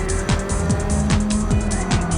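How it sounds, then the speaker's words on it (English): A Japanese drift car converted back to racing spec roars loud and close in a racing video game, its engine note rising and falling through gear shifts while tires squeal and skid in bursts across the corners. "This is a Japanese drift car converted back into a racing spec."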